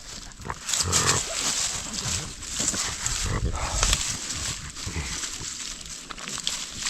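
Dogs panting, snuffling and moving through undergrowth on a mushroom-picking hike in the beech forests of the Carpathians, steady and close throughout, with brief low vocal sounds.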